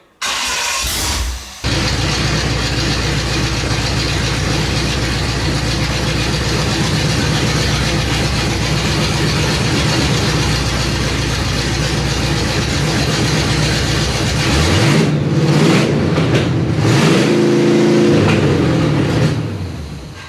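A 1970 Pontiac GTO V8 with a troublesome choke cranks and fires, then runs loud and close with a rough, lumpy idle, revving up briefly near the end.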